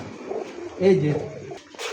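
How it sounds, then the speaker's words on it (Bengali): Pigeons for sale at a pigeon seller's coop, cooing softly in short, low throaty phrases, mixed with nearby talking and background shuffling. "যেমন এই যে 2 পেয়ার কবুতর দেখাই"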